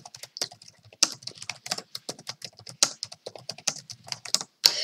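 Rapid typing on a computer keyboard, a close run of crisp, uneven key clicks with a few louder strikes, no voices over it.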